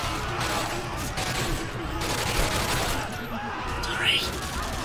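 Gunfire in Call of Duty Modern Warfare Remastered, a busy stretch of rapid shots and crackling bursts under continuous game noise with some voices.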